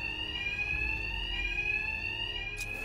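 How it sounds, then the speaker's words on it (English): A fire alarm rings continuously in the video game Batman: Arkham Knight, a steady high electronic tone held throughout, loud and unbroken, with a brief sharp noise near the end. "My attacks will be covered by the noise of the alarm."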